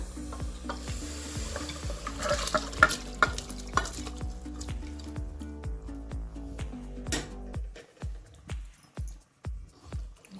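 Cooked chicken being stirred into masala water in a pan, with rhythmic scraping strokes of a spoon against the pan over a soft bubbling sizzle, ending in slower wet squishing stirs.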